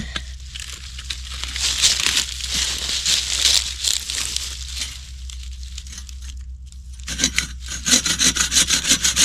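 Continuous back-and-forth sawing through a resin-rich fatwood stick, a steady rasping rhythm up close that pauses briefly, then resumes with quicker, sharper strokes near the end.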